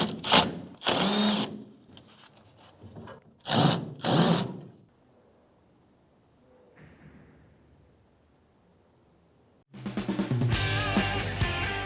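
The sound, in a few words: socket ratchet tightening fuel hose clamp on Ford F-150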